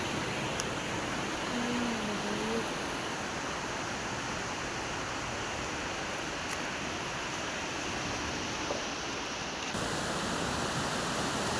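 Sea surf rolls in at a crowded beach on a Sunday as a continuous broadband wash with no distinct breaks between waves. It stays steady and moderately loud throughout, with no clear voices.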